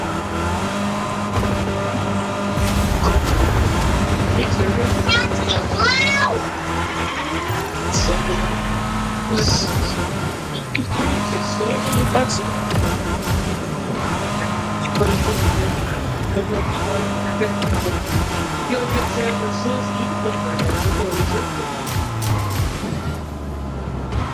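A car driven in the video game Fortnite, its engine droning and revving in repeated surges with tire squeals, loud and continuous beneath game music and players talking.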